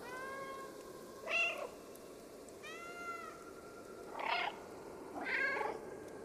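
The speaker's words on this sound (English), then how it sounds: "Very curious kind of meowing too." Cat meows from the video game Stray: four separate meows, several seconds apart, over a steady low game ambience, with no talking.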